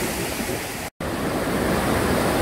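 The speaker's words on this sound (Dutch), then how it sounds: "ook hier word je nat van de waterval, op dit punt" The Krimml waterfall roars close by as a dense, unbroken rush of water, loud and filling the whole clip apart from a split-second dropout near the start.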